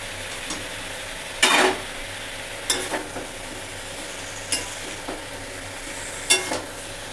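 Potatoes added to a jackfruit curry frying in a pan: a quiet continuous sizzle with a handful of sharp, separated stirring and scraping clinks from a utensil, close by and spaced a second or two apart.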